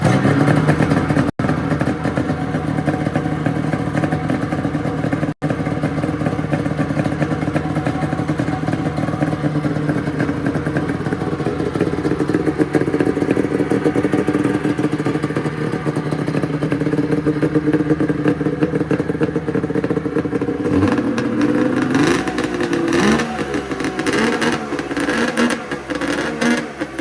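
A Polaris XLT 600 Triple snowmobile engine runs steadily and loud for a long stretch, a dense buzzing two-stroke drone that turns rougher and more uneven near the end, with no voices.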